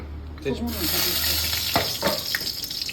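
Dried red chillies fry in hot oil for dal, a steady close sizzle with a couple of sharper crackles and stirring scrapes midway; a voice speaks briefly near the start.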